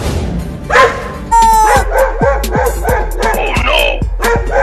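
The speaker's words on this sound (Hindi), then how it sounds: "दे दे, नहीं तो काट लेगा कुत्ता।" A dog barks repeatedly in a desi comedy skit: a burst of sharp, loud, close barks following one another in quick rhythm across the whole stretch.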